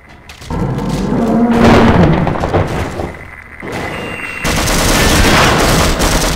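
Gunfire in the shooter game Half-Life, loud, dense bursts of rapid shots with booming impacts that come in waves and fill the whole stretch, no talk over it.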